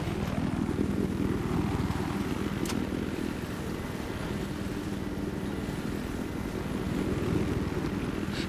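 Helicopter in the Battlefield 4 video game, set in a tropical storm: a loud, steady rotor thump and engine drone that runs without a break the whole time, with no talking.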